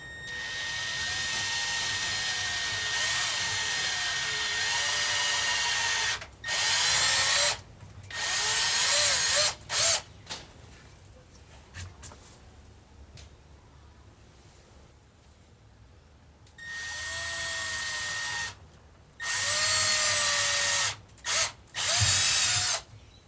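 A power drill runs in long sustained bursts, drilling holes for a guitar pickup ring, then several shorter stop-start pulses, repeating after a quiet gap, close and loud.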